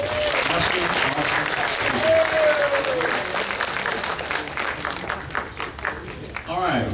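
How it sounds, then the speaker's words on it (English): An audience at a Mothman Fest 2011 talk gives a sustained round of dense applause that carries loud and even throughout, with a speaking voice over it near the end. "Let's give Rosemary another round of applause."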